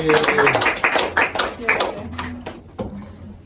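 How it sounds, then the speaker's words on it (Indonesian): A classroom group gives a short burst of scattered hand clapping for a student. Sharp claps come close together and fade out over a few seconds, with voices mixed in. "Tepuk tangan untuk Mbak Anis."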